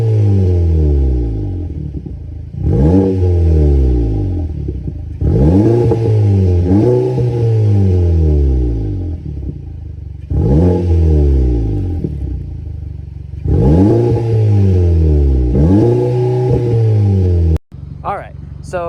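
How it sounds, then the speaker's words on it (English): A 2017 Audi A3 2.0T Quattro with its muffler deleted revs loudly up close, roughly five sharp throttle blips rising and falling in pitch, each followed by a settling idle. "got the muffler deleted, and now it sounds a lot better"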